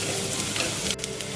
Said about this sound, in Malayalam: ഇതും ഹൈ ഫ്ലെയിമിൽ തന്നെയാണ് നമ്മൾ സോട്ടേ ചെയ്തെടുക്കുന്നത്